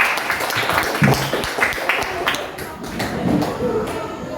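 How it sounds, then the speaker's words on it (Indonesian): A classroom of students applauds a classmate, scattered hand claps rising into a brief burst of clapping mixed with murmuring voices. "beri tepuk tangan untuk teman kita"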